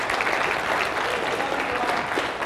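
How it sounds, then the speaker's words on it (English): Audience at a live event applauding, a dense, steady burst of clapping from a crowd, close and fairly loud throughout. "So let's give it up for Rob"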